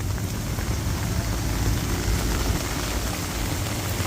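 Steady, dense rain pours down on a flooded Delhi street, a continuous close hiss and patter with no break, and no voices.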